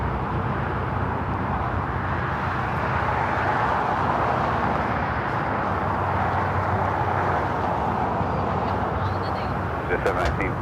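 A China Airlines Airbus A350-900 takes off from the south side of LAX, producing a broad, steady jet roar that holds at constant loudness, with no one speaking.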